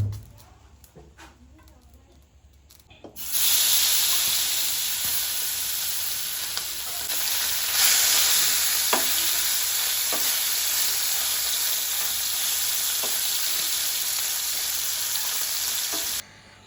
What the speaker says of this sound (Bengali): মাছ ভাজাটা ওই চুলায় দিয়ে দিলাম